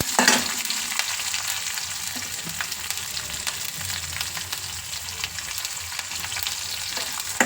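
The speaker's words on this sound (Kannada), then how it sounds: "ಹಸಿಮೆಣಸಿನ್ಕಾಯಿ ಹಾಕ್ಕೊಳ್ಳೋಣ" Green chillies and curry leaves crackle and sizzle in hot oil, a continuous close frying hiss with occasional spoon stirs and small pops throughout.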